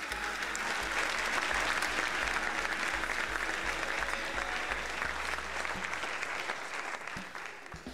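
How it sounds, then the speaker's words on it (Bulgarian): An audience at a school event applauds continuously, a dense, even wall of clapping that holds for several seconds before tapering slightly at the close. "А сега да посрещнем с аплодисменти"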